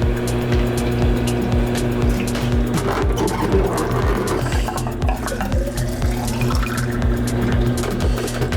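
Liquid developer pours out of a Jobo film processing tank during C-41 processing of 35mm Kodak Portra 400 film, a continuous gurgling, trickling flow over a steady mechanical hum from the processor.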